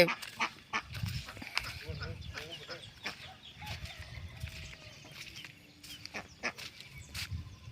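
Ducks and chickens calling on a farm, with quacking and clucking mixed into steady outdoor background noise and scattered nearby activity.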